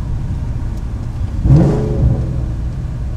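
A Ford GT accelerating hard in first gear, the engine note swelling to a loud rising rev midway before settling back into a steady low drone, heard close from inside the car.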